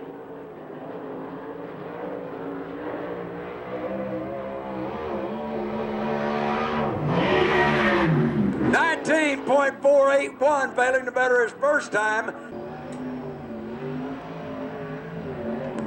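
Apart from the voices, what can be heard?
USAC/CRA sprint car engines on track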